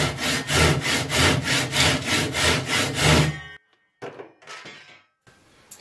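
A hand saw cuts through damaged wood in about eight steady, loud back-and-forth strokes, then stops, followed by a few quieter knocks and handling sounds.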